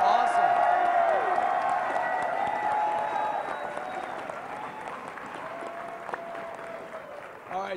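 A large esports crowd at a League of Legends grand final, TSM versus CLG at IPL4, applauds and cheers continuously and loudly, with an announcer speaking over the steady roar.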